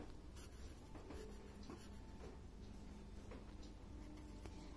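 A pen writes numbers on paper, giving faint, close scratching strokes in short repeated bursts over quiet room noise.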